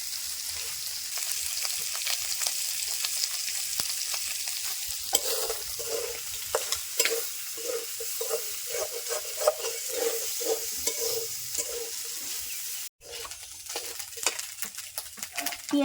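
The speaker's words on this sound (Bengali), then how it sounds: "পেঁয়াজ আর মরিচ আর রসুন ভাজা হয়ে গেছে হালকা" Onion, chilli and garlic frying in a pan while being stirred, a loud sizzle overlaid with rhythmic scraping and clinking strokes of the spoon against the pan, close and steady.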